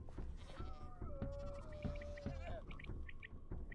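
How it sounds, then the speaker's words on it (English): A billy goat bleats in the Terrafirmacraft game, one long wavering cry that rises and trails off, followed by a few shorter bleats, heard clearly over a low background murmur. "It's a billy goat."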